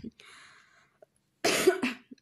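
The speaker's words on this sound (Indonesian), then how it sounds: "Maaf ya bun, masih batuk." A quick breath and faint noise, then a couple of rough, close coughs in quick succession.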